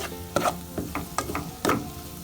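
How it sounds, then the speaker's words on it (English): Whole spices frying in hot oil for a vegetarian Indian lentil dahl, a steady close sizzle broken by several sharper crackling bursts as the pan is stirred, with no voices. "now we want to fry them in the oils"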